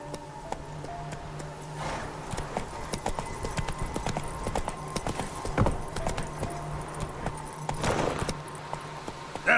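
Horse galloping in The Witcher 3 video game: rhythmic clip-clop hoofbeats held steady at a moderate, fairly quiet level, with occasional jangling tack and faint game ambience.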